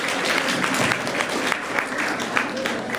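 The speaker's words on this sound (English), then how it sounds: "Round of applause." Steady applause from a Model United Nations general assembly crowd fills the whole stretch, a dense patter of clapping without pause.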